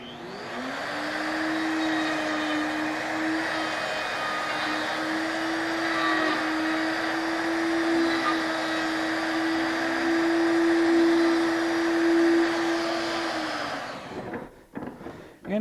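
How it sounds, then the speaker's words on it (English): A wood router whines steadily while cutting a mortise in wood, one loud, continuous high-pitched drone lasting about fourteen seconds before winding down and stopping. "after just a few moments with the router, we've got our completed mortise"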